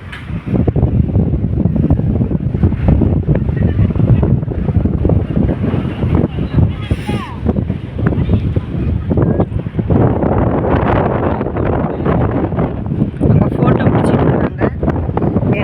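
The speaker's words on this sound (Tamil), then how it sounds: "இங்கே காற்று சரியான காற்றாக இருக்குது." Strong wind buffeting the microphone at Manapad beach, a loud, constant roaring rumble with gusty surges throughout, with people talking faintly beneath it.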